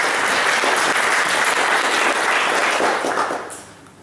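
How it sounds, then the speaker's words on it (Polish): Audience applause at a Polish poetry competition, dense steady clapping from a crowd that holds strong for about three seconds, then thins and fades out. "Brawa na pewno."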